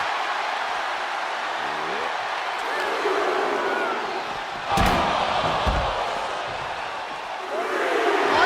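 A lift-up powerbomb in a WWE 2K wrestling match lands as a sharp, heavy slam thud midway through, set against a constant roaring arena crowd.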